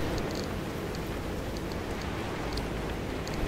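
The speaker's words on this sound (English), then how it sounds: "It's just raining a little bit" Light rain in Pacific Drive patters as a steady broadband hiss with faint scattered drop ticks, constant and fairly loud, without talking.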